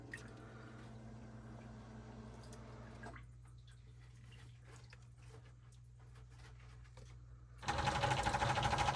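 An electric pump aboard a boat running with a steady mechanical hum and trickling, dripping water, joined near the end by a louder rush of pumped water.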